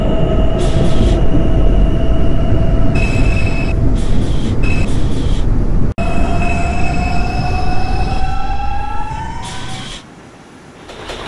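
An R142 subway train in the OpenBVE simulator runs loudly with a steady roar, rising tonal motor whines and wheel squeals that climb in pitch, then the noise drops away near the end.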